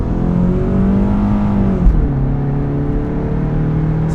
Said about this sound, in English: Sounds like it has a little turbo in it already.